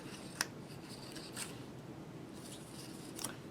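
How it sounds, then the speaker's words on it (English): Scissors snip out paper shapes for a bunny craft kit, a few quiet, separate cuts spaced across a soft, hushed background. "So I'm going to cut out each one of these shapes, and then we'll put them together."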